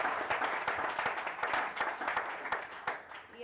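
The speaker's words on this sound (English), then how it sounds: "please give yourself a big round of applause" Audience at a startup pitch weekend applauding the pitchers, a sustained burst of clapping from a small crowd in a room, fairly close and even throughout.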